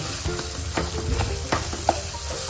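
Banana pieces frying in ghee, a steady close sizzle with occasional stirring scrapes and small pops, no voices.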